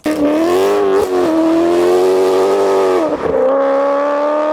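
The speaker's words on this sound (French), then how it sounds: "On vous remet pendant 2 secondes le bruit de ma M3, ligne ouverte devant la petite route du château." A BMW M3 E92 engine with open exhaust revs hard and loud up close beside a small road, holding a raspy high pitch, dipping briefly twice, then settling back into a strong roar.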